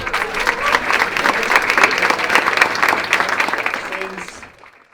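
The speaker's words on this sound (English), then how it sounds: "one big applause for Laura. Please give it up." An audience at a Startup Grind Barcelona summer party applauds a speaker, a loud, dense burst of clapping that fades out toward the end.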